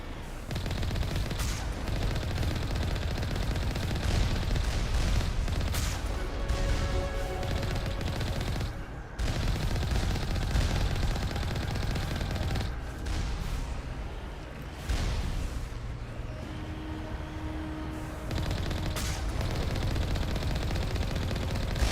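Turret gunfire in the video game Mass Effect Legendary Edition, dense sustained bursts of rapid shots with brief pauses, loud and continuous across the scene.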